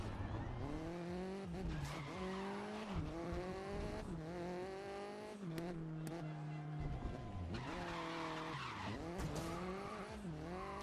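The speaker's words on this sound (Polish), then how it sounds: "Jakieś lekkie drifty tu są uprawiane" A tuner car drifts through corners in the racing game Grid 2019, its engine wailing in rising and falling sweeps as tires skid and squeal continuously and loudly.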